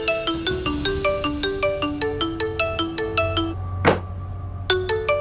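A mobile phone ringtone for an incoming call, a bright repeating melodic tone pattern ringing steadily, briefly interrupted by a sharp noise burst before the tune resumes.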